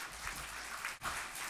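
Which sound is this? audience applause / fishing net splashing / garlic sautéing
audience applause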